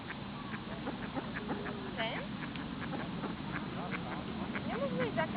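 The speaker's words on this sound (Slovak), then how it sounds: "Pozri, kačičky, sú tu aj labuťky pri tebe." Several ducks quack repeatedly by a pond where swans are also present, fairly close, with outdoor background noise and people talking over them.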